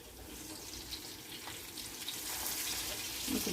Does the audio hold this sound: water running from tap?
yes